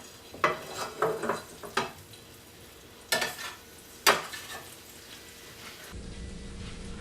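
A small amount of finely chopped fresh parsley hits a hot skillet, giving a few sharp sizzling bursts and scrapes in clusters, then settling to a soft steady hiss before a brief quieter tail.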